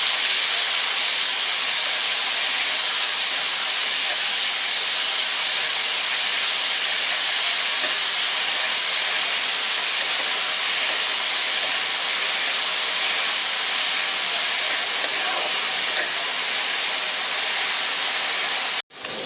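Onion and tomato sauté in a pan, producing a constant, fairly loud hissing sizzle that stays even for the whole stretch and cuts off sharply at the end, with no talk.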